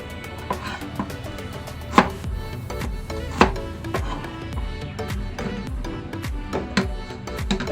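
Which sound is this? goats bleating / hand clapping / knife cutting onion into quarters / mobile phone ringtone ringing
knife cutting onion into quarters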